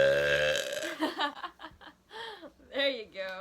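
A person gives a drawn-out burp right at the start, followed by chuckling and bits of talk.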